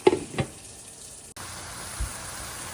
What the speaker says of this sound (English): So I'm gonna put just a little bit of water